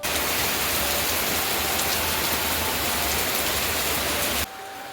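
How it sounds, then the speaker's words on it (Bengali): Heavy rain pours steadily in a dense, loud hiss, then cuts off abruptly near the end, leaving quieter background. "দেখো বাইরে কেমন বৃষ্টি হচ্ছে"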